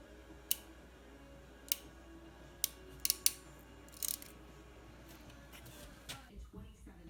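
Cutters snip corroded wire ends on an ATV starter relay, making several sharp, quiet metallic clicks spaced a second or so apart, with a faint faraway voice in the background.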